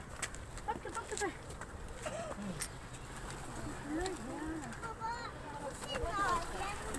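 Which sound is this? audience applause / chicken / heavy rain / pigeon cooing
pigeon cooing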